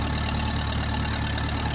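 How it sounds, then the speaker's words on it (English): A backhoe engine runs at a steady, loud idle close by, a continuous low rumble with a faint knocking texture, on a muddy site where a Ford is stuck. "now backhoe."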